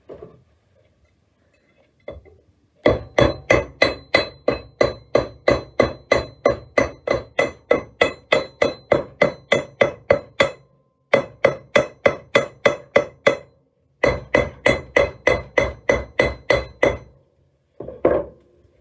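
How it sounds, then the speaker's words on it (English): Steady, rhythmic hammer strikes on copper, bright and ringing, in long runs broken by brief pauses. "So, I'll put the earphones on and start hammering."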